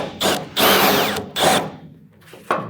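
A step drill bit bores out a hole to 3/8 inch on a custom brake pedal assembly for a 1966 GMC, a close power drill whirring in several short bursts with brief pauses and grinding bites between.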